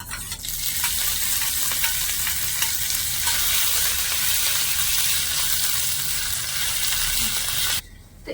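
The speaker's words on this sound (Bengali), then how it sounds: "এখানে আমি আদা আর কাঁচা লঙ্কাটা দিয়েও হালকা করে খুব সুন্দর করে ভেজে নিয়েছি" Crushed ginger and green chillies frying in hot oil, giving a loud, steady, close sizzle with occasional stirring clicks, which cuts off sharply near the end.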